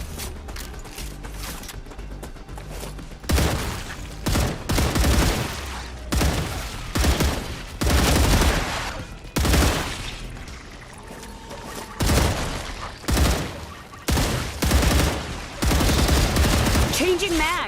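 Repeated bursts of gunfire from weighty guns in the sci-fi game StarRupture, loud and close, in rapid volleys with short pauses between, over a constant low background rumble.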